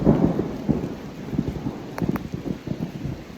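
Steady rain patters close by while low thunder rumbles in the distance, with a couple of sharper cracks standing out briefly.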